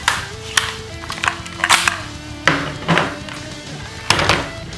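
An Air Venturi Hellboy BB gun firing Dust Devil BBs, a series of sharp, loud snapping shots at irregular intervals, some in quick pairs, with faint background hum and no talking.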